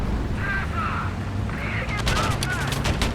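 Tank battle gunfire in the War Thunder video game, with a Panzer VI Tiger I Ausf. E in play: rapid, distant bursts of automatic fire arrive in the second half over a steady low rumble.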